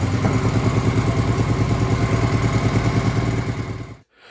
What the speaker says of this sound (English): you could hear how fast that cranked it up, no problem